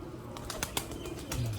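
Sialkoti pearl-marked pigeons, pure breeder youngsters, flap their wings in a few quick bursts, close and soft against a faint background hiss.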